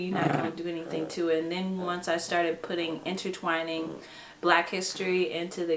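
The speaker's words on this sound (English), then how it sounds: "that's our dog if y'all hear us" A household dog whines and growls in the background, fairly close, while a person keeps talking over it throughout.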